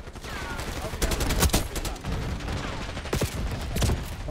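Rapid gunfire in the video game Call of Duty Black Ops 6, bursts of sharp shots cracking in quick succession over a dense battle backdrop, with a voice talking between the volleys.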